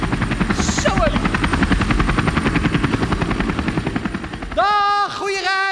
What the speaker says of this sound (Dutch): Kijk, er staat echt een helikopter.